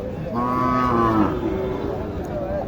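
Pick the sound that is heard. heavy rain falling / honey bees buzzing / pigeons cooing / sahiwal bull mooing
sahiwal bull mooing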